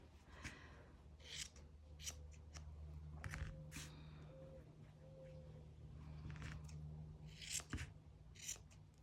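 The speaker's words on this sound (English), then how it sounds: "So just kind of trim it up until it's even and fluffy." Scissors trimming the fluffy yarn on a handmade Good Vibes Only sign, giving a series of soft, close snips spread irregularly across a quiet background, with no voices.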